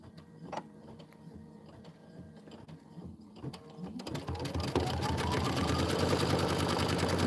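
A home embroidery machine sews a placement stitch for a Kimberbell Enchanted Winter design, starting with faint mechanical ticks and then settling into a steady, loud, fast stitching whir that fills the second half.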